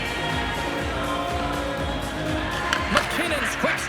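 Crowd roar in an NHL 26 hockey arena during a tied game between Los Angeles and Colorado, a steady wash of cheering with scattered horns and whistles rising near the end.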